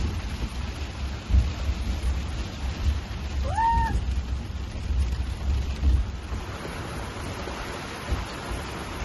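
Steady rain patters on a surface amid squally, gusty wind buffeting the microphone on Nuku Hiva, French Polynesia; a brief animal call rises midway.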